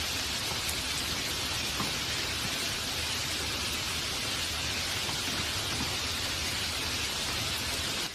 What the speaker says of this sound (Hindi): तभी पहली बूंद गिर पड़ी